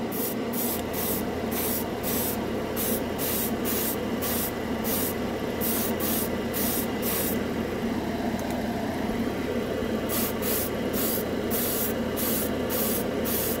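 Alclad candy paint sprayed in light coats from an airbrush, short evenly spaced hissing bursts in a steady rhythm over a constant low hum, close and alone with no talking.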